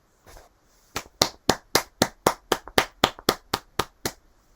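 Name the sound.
crowd clapping gently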